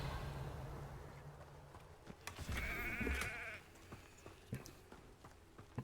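Sheep bleat in a backyard in the video game Hogwarts Legacy, a clear wavering bleat rising over soft ambient game sound, with scattered footstep-like clicks around it.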